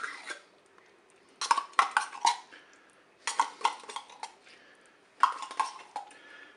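A spoon stirs tomato paste into food inside a Cookeo electric pressure cooker, producing three clusters of quick metallic scrapes and clatters against the pot, separated by short quiet pauses.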